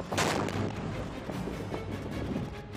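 Self-propelled artillery gun firing a live round by lanyard from outside the hull at a training range, a loud deep blast with rumbling wash and wind noise lingering throughout.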